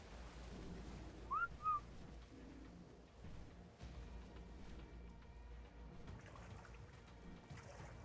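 A short two-note whistle used as a command in ARK, the survival video game, sounding briefly and clearly over a soft wash of water and ambient game noise, with no talking.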